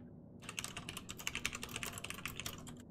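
Fast, continuous computer keyboard typing during a World of Warships stream, a close, crisp run of rapid clicks starting abruptly and continuing steadily to the end.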